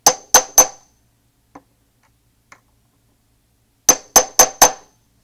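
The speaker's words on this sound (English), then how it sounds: "I'm just going to use not a very big hammer because it's silver" Small hammer striking a silver ring on a dapping tool: three sharp metallic taps, a pause with two faint clicks, then four more quick ringing strikes, loud and close.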